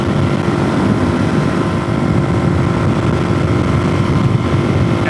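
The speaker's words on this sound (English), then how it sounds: "The wind has done nothing but pick up today." Strong wind roars and buffets steadily at close range, a loud, continuous broadband rush that never lets up, with no voices.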